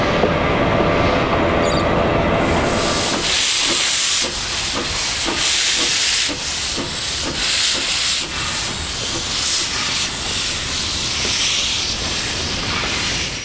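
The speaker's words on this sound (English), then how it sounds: "At Belgrave Station, DH59 is shunting carriages into position" Puffing Billy locomotive DH59 shunts carriages at Belgrave Station on the 2 ft 6 in gauge line, loud hissing and rushing at first, then rhythmic rubbing, clanks and chuffing pulses as the train moves slowly nearby.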